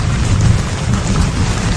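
Loud, steady rain pours during a thunderstorm, a dense continuous roar of drops with a deep low rumble beneath and no voices.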